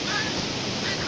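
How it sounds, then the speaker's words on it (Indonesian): Big ocean waves at Dlodo beach in Tulungagung, with a dense, constant roar of surf and wind rumble close to the microphone, filling the short moment without a break. "Dan ombak di sini"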